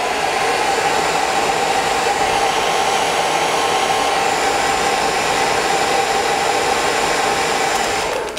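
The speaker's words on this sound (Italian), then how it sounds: "Sempre il nostro phon, adesso bisogna scaldare parecchio." A hair dryer blows steadily and loudly at close range, heating a plastic goggle skin, a constant airy whine and rush that cuts off abruptly at the end.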